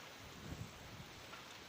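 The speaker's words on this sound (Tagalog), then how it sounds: "tanging maririnig mo lang yung tunog ng hangin kasi ngayon sobrang lakas ng hangin" Steady, strong wind roars in a broad, continuous rush across an open farm field, with faint gusty thumps and no voices.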